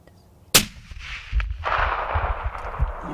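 A single sharp rifle shot cracks after a moment of quiet during a deer hunt, followed by a rumbling echo and rustling movement nearby.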